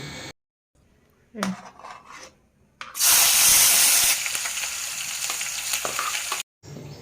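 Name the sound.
eggs frying in oil in a pan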